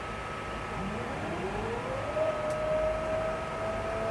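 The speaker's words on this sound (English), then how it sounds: "That's the Fan up front. the pusher." An electric AC unit's pusher fan on a truck runs at its high setting, a close, steady whine that climbs in pitch and then holds over a constant airy hum.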